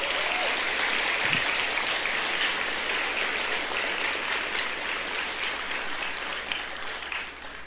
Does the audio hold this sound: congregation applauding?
yes